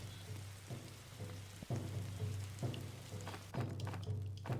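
Rain in the video game 99 Nights in the Forest patters steadily on surfaces, with a low constant hum beneath and a few soft thunks scattered through.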